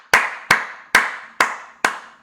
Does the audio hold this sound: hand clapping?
yes